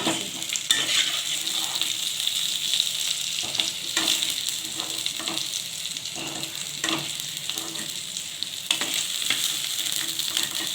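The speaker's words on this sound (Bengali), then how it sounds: "আলুগুলো আমার ভাজা হয়ে গেছে" Potato pieces fry in hot oil for a cauliflower, potato and fish curry, giving a loud, steady sizzle with occasional scraping stirs, and no one speaks.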